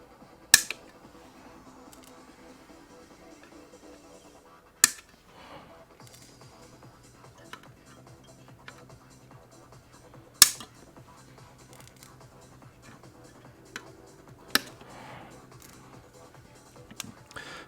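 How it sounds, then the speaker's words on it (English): Flush cutters snip the legs off electronic components on an assembled circuit badge, giving a handful of sharp, isolated clicks spaced several seconds apart in a quiet room, with soft handling noise between them. "we're going to take our cutters and we will cut these legs off"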